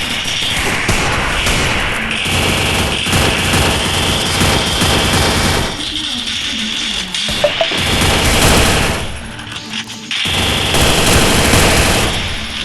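Rapid gunfire from a shooting video game, with dense bursts of automatic fire and booms crowding most of the clip. The shooting thins into a short lull midway, then returns loud and continuous.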